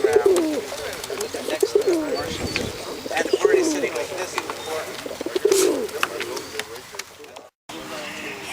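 Flying Tippler pigeons coo and murmur in a low, throaty chorus close by at a lawn show, with scattered rustling and voices in the background.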